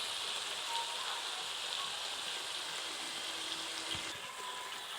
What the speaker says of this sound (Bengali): এখন আমি এর মধ্যে তেঁতুল গোলা জলটা দিয়ে দেবো